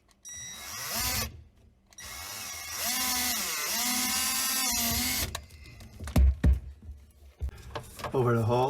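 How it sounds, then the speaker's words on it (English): Power drill boring a 1/4-inch hole into a plastic under-sink drain pipe, steady whining bursts of drilling close by, stopping and restarting, with a few knocks and handling noises near the end. "I need to drill a 1/4-inch hole in the drain pipe"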